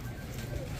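Pigeons coo softly at a breeder's loft, a low steady murmur of cooing filling the short moment with no voices over it.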